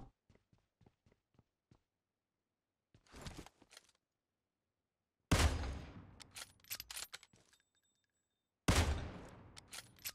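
Kar98 bolt-action rifle fire in the mobile game PUBG Mobile: two loud, sharp shots several seconds apart, each with a long ringing tail, preceded by faint ticking footstep-like taps and a short rustle.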